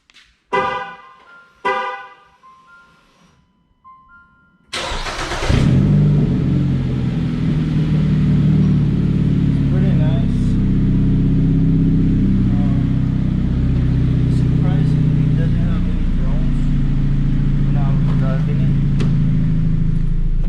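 A few short horn toots sound, then a 2018 Jeep Renegade 2.4L engine with a turned-down exhaust pipe starts up and idles loudly with a deep, throaty rumble and occasional revs.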